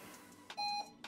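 A workout timer starts a boxing session with one loud, steady electronic beep of about a quarter second, standing alone between softer background sounds.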